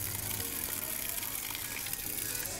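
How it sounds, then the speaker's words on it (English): Heavy water drenches a Samsung Galaxy Note 10 Plus phone, an IP68 water-resistant model, producing a steady dense spray hiss and rush that stays constant throughout, close and loud. "Now let's move directly onto the heavy drenching round to begin testing the IP68 certified water resistance provided by Samsung on the Galaxy Note 10 Plus."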